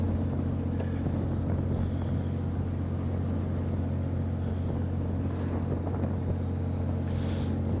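Wind buffets a deep-sea squid fishing boat in rough weather, a steady low rumble and gusty hiss running throughout over the boat's constant engine hum, with no talking.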